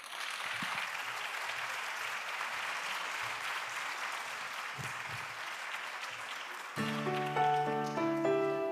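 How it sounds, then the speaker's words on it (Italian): Audience applause at a children's Christmas singing event in Ollolai: a dense, loud, continuous wash of clapping that carries on steadily, then a piano-like musical intro enters over it near the end. "Applauso forte."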